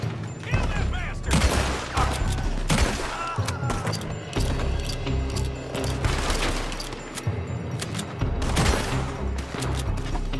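Gunfire in Red Dead Redemption 2 during a firefight around a building: repeated loud shots and crashing blasts at irregular intervals over a dense, noisy battle background.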